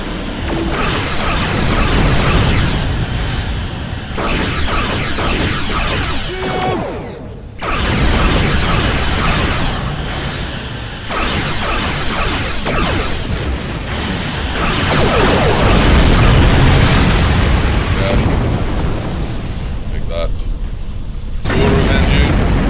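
Heavy torpedo blasts and space-combat effects in the Star Trek Online video game, loud rumbling booms and whooshes layered over dense game sound that runs almost continuously, with a brief dip midway.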